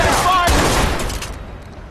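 Dense burst of rapid gunfire in the shooter game Watch Dogs, loud and close at first, then thinning and fading out over a couple of seconds amid game noise.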